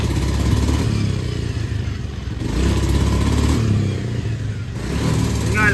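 A Honda Beat scooter misfires as the throttle is held open, its engine sputtering and clattering unevenly in rough surges instead of climbing cleanly, close and fairly loud.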